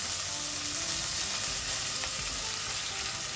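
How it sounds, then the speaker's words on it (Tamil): Curry leaves and chilli flakes fry in hot oil with a steady, close crackling sizzle that holds evenly throughout, and a few soft stirring touches sit beneath it. "இந்த கறிவேப்பிலையை போட்டு ஒரு கொஞ்சம் நேரம் இதை வதங்க விடும்"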